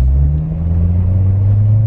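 Steady low engine rumble of a Corvette Z06 sports car idling and creeping along while parking, a deep continuous hum with no talking over it.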